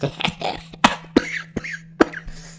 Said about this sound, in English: Ugh, bloody COVID cough.